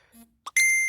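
A mobile phone sounds one short, sharp electronic beep, close and clear, following a brief near-silent pause with faint room noise.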